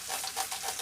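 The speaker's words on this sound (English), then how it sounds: "Let me just add a tiny bit of oil to these onions, just a little bit." Oil sprayed in a few short hissing bursts onto onions in a pan while cooking Chinese chicken curry, a steady close sizzle with the spray pulses standing out faintly.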